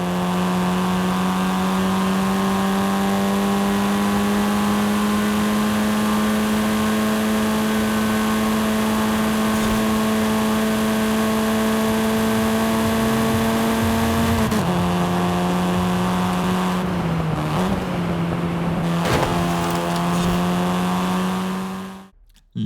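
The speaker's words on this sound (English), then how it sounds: "I'll leave you alone with the stock sound of the Golf" In Forza Horizon 5, a stock 2022 VW Golf 8 R engine idles with a steady, even drone, then revs briefly and settles a few times before cutting off at the end.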